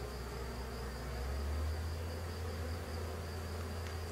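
Honey bees from a small swarm buzz steadily at an opened hive during a frame inspection, a dense continuous hum filling the scene at close range with no talk.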